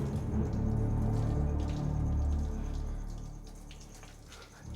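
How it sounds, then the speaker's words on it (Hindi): Water running steadily indoors, like a shower left on behind a closed door, a continuous broadband hiss that swells and then eases slightly, heard alone without voices. "पानी के बहने की आवाज है।"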